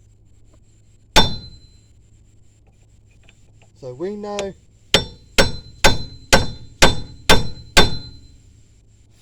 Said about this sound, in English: we got us a heavy duty chisel. And got us a 3-pound hammer.